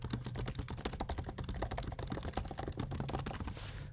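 Quick, close clicking of a computer keyboard as an email is typed, a fast, uneven run of keystrokes with no talking.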